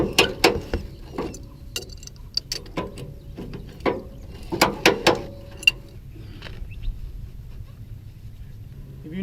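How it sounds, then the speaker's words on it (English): A ratchet strap cranks tight on a car tow dolly, its pawl giving loud, irregular clacks in quick bursts, close to the mic. The clicking thins out and stops, leaving quiet background for the last few seconds. "now we're going to go and ratchet it up"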